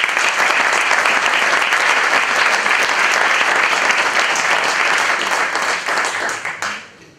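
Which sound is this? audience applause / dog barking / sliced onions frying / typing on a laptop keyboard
audience applause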